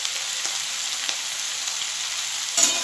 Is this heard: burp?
no